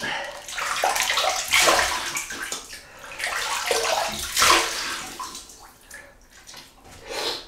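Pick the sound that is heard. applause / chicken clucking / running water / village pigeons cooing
running water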